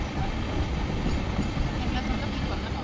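Steady broadband rumble of a fast train from Chennai Central rushing past, heard continuously at close range from aboard a moving train, with a faint voice underneath.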